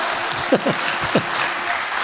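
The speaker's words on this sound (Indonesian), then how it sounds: "Boleh tepuk tangan, santai aja Pak, santai aja." Audience applause at a comedy event in Indonesia, a fairly soft, steady patter of clapping with a few brief voices and louder individual claps breaking through.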